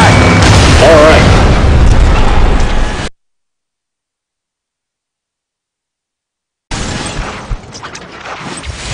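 A bomber explodes in Ace Combat Assault Horizon with a heavy, rumbling boom and crashing burst. A few seconds of total silence follow before another rough burst of blast noise returns.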